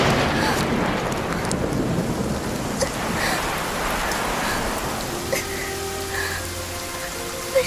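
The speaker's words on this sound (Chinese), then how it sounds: "要下雨了，我得赶紧回家。" Rain falls steadily in a dense, even hiss, with distant rumbles underneath and a few drips and light knocks toward the end.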